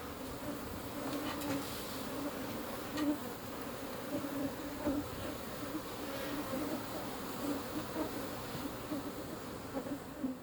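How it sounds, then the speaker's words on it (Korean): Honeybees swarm around an urban rooftop beehive amid Seoul office buildings, a dense continuous buzzing of many insects at moderate level, with small swells as individual bees pass close. "벌 중에서 유순한 편이라고 알려져 있지만 집단이 위기에 처하면 목숨까지 버리며 싸우는 맹렬한 곤충이 꿀벌이죠"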